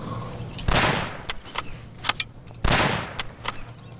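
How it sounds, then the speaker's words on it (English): Grenades exploding across the middle of the map in a competitive multiplayer shooter match, two loud booming blasts about two seconds apart, with sharper gunfire cracks between them. "Some nades going across that middle area."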